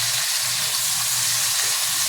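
Garlic sautéing in a pan, giving a steady, close, unbroken sizzle and hiss with a low rumble underneath and no talking.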